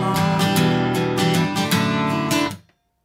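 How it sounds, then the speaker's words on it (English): An acoustic guitar is strummed in a driving pattern of down strokes with occasional up strums, played close and bright. The chords stop abruptly after a couple of seconds, leaving a brief fading ring. "If you want a little bit more aggressive rhythm, you could add some up strums from time to time."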